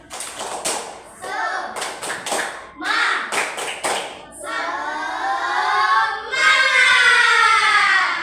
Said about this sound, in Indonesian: Kita tepuk semangat dulu lagi. Tepuk semangat.